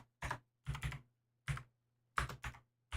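Several quick, close bursts of typing on a computer keyboard, short clusters of clicks separated by brief pauses, with a faint steady hum underneath and no talking.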